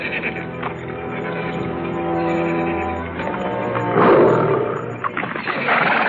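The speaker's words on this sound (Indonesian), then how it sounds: "Ronggo Lelono terkejut sekali ketika di depannya muncul harimau raksasa." A giant tiger roars in a radio drama sound effect, a long, loud, rumbling growl that swells and surges near the end, with no talk over it.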